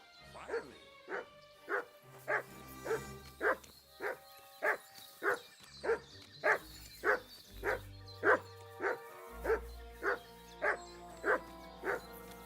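A dog barks in the video game Kingdom Come Deliverance 2, a long run of evenly spaced, fairly loud barks repeated about every half second, with low background game ambience underneath.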